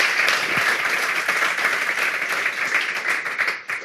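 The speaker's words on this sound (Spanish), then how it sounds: "un aplauso" A crowd applauds with steady, dense clapping that carries on for several seconds before tapering off near the end.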